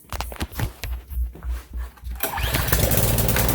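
A Mitsubishi Starion's K engine cranks in a loud rhythmic pulsing for about two seconds, then catches on the first try and settles into a steady, rough, close-up running roar.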